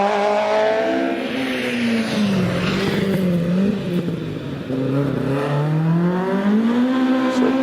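A Mark II Escort rally car powers up a hillclimb course, its engine note rising and falling steadily through gear changes as it revs hard nearby, loud and continuous with no voices over it.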